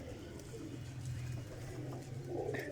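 Pigeons coo softly in a low, rolling murmur at a rooftop loft in Sialkot, a steady burbling drone with a few faint chirps and light background noise throughout.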